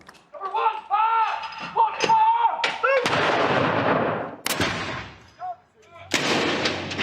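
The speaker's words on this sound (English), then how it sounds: "a 96-gun salute, one for each year of the Queen's life" An artillery gun salute of 96 rounds for the Queen in London fires three heavy, booming rounds a second or more apart, each with a rolling echo, after a voice is heard briefly at the start.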